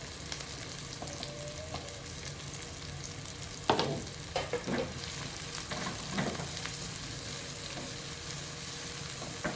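Garlic frying in a pan while pork ribs cook, a steady low sizzle with a few brief stirring scrapes partway through, fairly quiet and with no talk.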